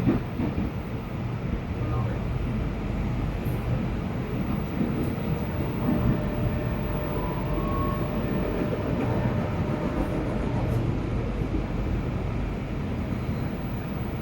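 An electric commuter train running alongside rumbles steadily close by for the whole stretch, a dense low roar with faint rail clatter and no pauses.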